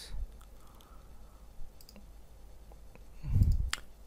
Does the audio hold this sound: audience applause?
no